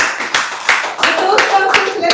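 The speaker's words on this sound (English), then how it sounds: "let's give a big round of applause to this precise evaluation" Applause at a Toastmasters meeting comes as a handful of separate, fairly close claps spread unevenly over a couple of seconds, with a voice speaking over them.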